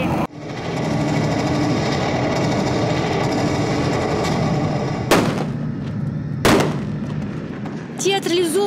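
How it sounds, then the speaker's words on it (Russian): Sustained rumbling barrage of distant artillery and gunfire at a battle reenactment, punctuated by two sharp, loud grenade blasts near the end, with faint voices at the close. "Артподготовка, взрывы гранат в ближнем бою, свист пуль."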